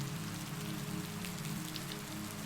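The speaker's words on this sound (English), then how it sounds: "It was in this soothing rhythm of rain and chimes" Steady rain pattering on a café window glass, a dense, even hiss of drops with a low background hum, continuous and close throughout.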